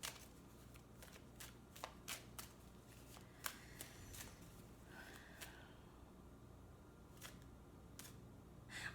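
Tarot cards are handled and drawn from a deck, giving soft papery shuffling and several sharp flicks and snaps spread through a quiet, faint passage with no talking.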